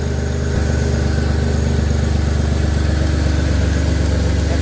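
A Pontiac G6 engine idles steadily up close, a loud, even mechanical rumble with a low pulsing throb that holds throughout without any voices.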